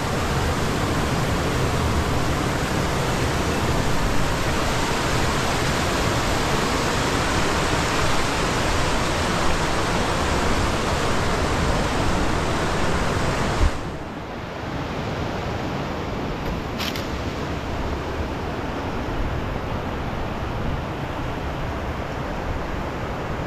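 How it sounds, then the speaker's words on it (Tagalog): Stream water rushing loud and constant, a dense roar that drops slightly partway through but keeps flowing with no voices. "kasi maingay dito yung tubig"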